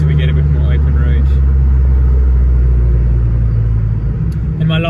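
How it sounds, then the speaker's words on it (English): Abarth car engine droning low and loud on the road, a steady rumble with no clear acceleration swell, with someone talking over it throughout. "when you put your foot down, then you really hear the car"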